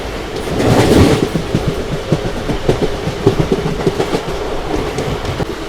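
A train running over the track near Kadur Junction as it joins the Chikkamagaluru line, with steady rolling rumble and a repeating clickety-clack of wheels over rail joints, close and continuous.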